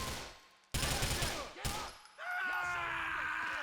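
Bursts of rapid gunfire crackle in quick succession in GTA IV, followed by a sustained explosive rumble with swirling game-like effects.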